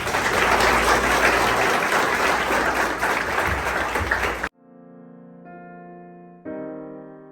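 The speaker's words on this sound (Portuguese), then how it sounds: "Uma salva de palmas." Applause at a wedding ceremony fills the room with dense, steady clapping for several seconds, then cuts off abruptly and gives way to quiet sustained organ-like tones.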